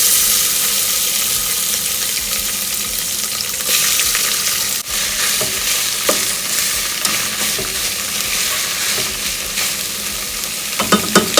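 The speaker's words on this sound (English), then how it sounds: "You basically just frying the tofu or pre-cooking the tofu" Steady loud sizzling of tofu frying in a little oil in a hot pan, continuous hiss with occasional small pops and a clink of a utensil near the end.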